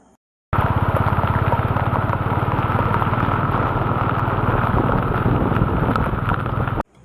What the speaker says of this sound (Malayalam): ദേ നല്ല രീതിയിൽ കോടമഞ്ഞും മഴയും